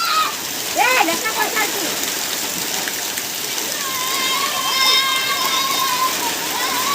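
The season's first rain falls in a Konkan village, a steady wash of rain and splashing water under excited children's voices and shouts.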